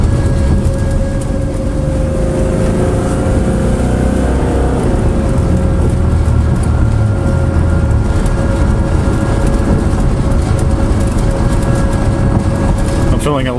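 A 1986 Lesharo RV on its first road test, the engine droning steadily and loudly from inside the cabin as the transmission shifts up and down, with a faint tonal whine running over the rumble and no talking.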